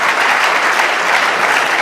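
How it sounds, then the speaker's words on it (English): Audience applause at a gathering in Doylestown, PA, a dense, steady wash of many hands clapping, loud and close throughout with no voices on top. "Let's give him one more hand of applause."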